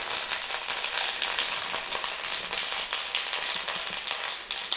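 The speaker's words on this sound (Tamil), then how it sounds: "கடுகு, உளுத்தம் பருப்பு எல்லாம் தாளிச்சிட்டு வதக்கிறதுக்கு ஒரு 2 ஸ்பூன் மட்டும் எண்ணெய் விட்டால் போதும்." Mustard seeds and urad dal tempering in a little hot oil for masala paniyaram, a steady loud sizzle and fry with dense crackling throughout, no voices.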